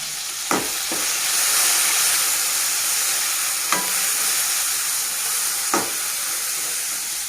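Tomatoes fry in a pan for Andhra-style gongura pachadi, a steady loud sizzle broken by three sharp clanks of a spoon stirring, with no one speaking.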